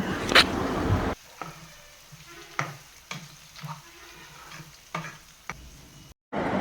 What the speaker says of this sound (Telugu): వీటన్నింటిని కొద్దిసేపు ఆయిల్లో వేయించుకుందామండి మాడిపోకుండా బ్రౌన్ కలర్ వచ్చేంత వరకు సిమ్లో పెట్టుకుని వేయించుకుందాం